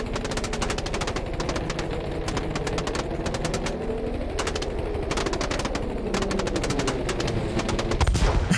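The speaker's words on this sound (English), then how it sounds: "Because I can shoot you all day! With all of my guns!" Sustained rapid machine gun fire in Battlefield V, loud and close with a fast steady rhythm of shots running almost unbroken, briefly pausing near the middle before resuming, with a rumbling engine underneath.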